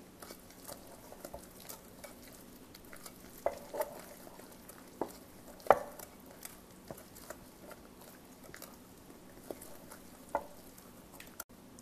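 Spoon stirring a thick low-carb almond flour burger bun batter in a bowl, soft scraping and occasional light clicks at an irregular pace, quiet and close with no talking.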